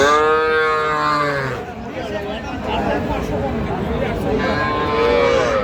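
Young heifer calves and cattle at a livestock market in Raniganj give loud, drawn-out moos at the start and end, with crowd chatter and people talking throughout.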